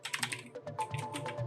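Computer keyboard typing at close range during a PC setup, a quick run of light, uneven key clicks and taps, fairly quiet and alone.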